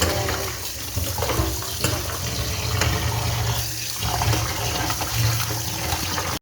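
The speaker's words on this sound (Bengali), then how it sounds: "ধুয়ে তুলে নিচ্ছি বন্ধুরা" Mutton pieces are rinsed under running water for a Bengali khashir mangsho curry, with a steady gushing stream and sloshing, clattering handling close by.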